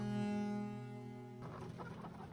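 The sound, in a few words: laying hens clucking in poultry farm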